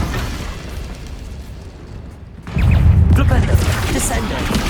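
A Confringo fire spell blasts in the Hogwarts Legacy video game, its loud burst landing partway through after a quieter stretch and followed by crackling, rumbling debris.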